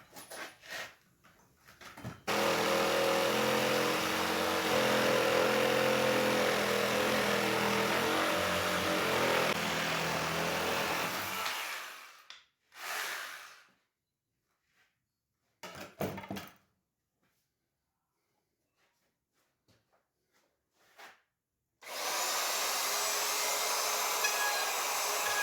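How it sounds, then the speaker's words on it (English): Sawzall reciprocating saw cutting through a wooden spool, a loud sustained buzzing run of about ten seconds, then short bursts and a final run separated by silence. "This particular Sawzall is particularly good because your trigger's not on the end of it, so your center of gravity is perfect for cutting stuff out."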